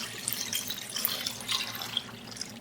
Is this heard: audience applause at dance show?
no